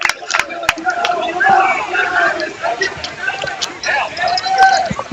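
A big crowd cheers and shouts steadily at a boys' 16-inch softball city championship at Hamlin Park in Chicago, a loud, busy swell of voices with bursts of yelling throughout.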